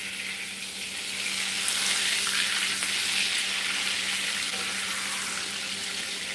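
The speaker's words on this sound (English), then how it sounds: "So we're gonna let this butter melt right quick." Butter melts in a hot pan with a steady hissing sizzle that swells after the first second and holds evenly, alone and fairly close.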